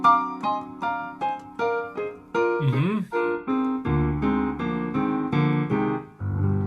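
An altered scale phrase, a quick melodic run of single notes on a bright, plucked or keyed instrument, climbing and falling before settling into sustained lower tones.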